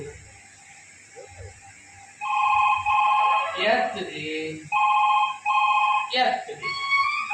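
A mobile phone rings with an incoming call during a stage play, its electronic tone repeating in loud bursts, with brief voices heard between the rings.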